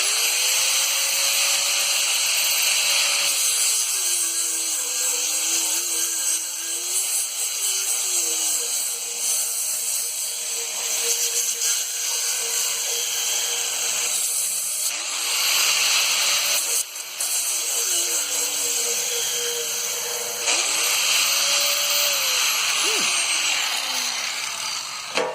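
Milwaukee and DeWalt 4.5-inch angle grinders whine loudly and continuously. The motor pitch dips and recovers several times as they spool down and back up.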